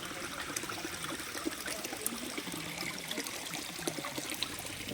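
Shallow flowing stream at a crossing point with sandbags laid for footing, a continuous quiet gurgling and trickling wash with faint splashes, steady throughout.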